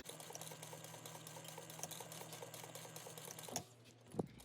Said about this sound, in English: I just sew back and forth so that way I have minimal waste